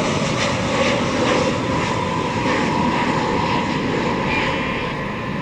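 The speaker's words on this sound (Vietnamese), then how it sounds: "nó cực kỳ ồn ào luôn. Nhất là khi mà nó tới hạ cánh á, nó cất cánh cũng vậy" An Ilyushin IL-76TD jet at an airport produces a loud, continuous broadband engine roar that stays steady, with no break throughout.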